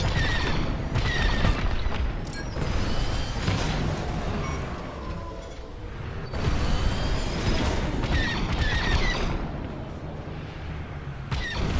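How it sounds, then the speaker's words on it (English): An A-Wing starfighter in the game Star Wars Squadrons slams into asteroids, producing repeated heavy crashing booms over a constant engine rumble, with several sharp impacts spread across the space battle. "Looks like the A-Wing collided with some asteroids."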